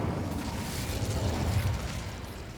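Incendio fire spell blasting a barrier in Hogwarts Legacy, a dense roaring burst with rumbling low crackle that sustains for a couple of seconds at steady, moderately loud level.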